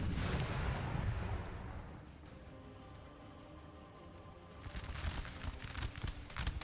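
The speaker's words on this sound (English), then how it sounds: "volleys and fights all across this section of the map." Musket volleys and artillery in Napoleon Total War 3, a distant battle din of rolling fire and booms that fades in the middle and swells again with crackling volleys near the end.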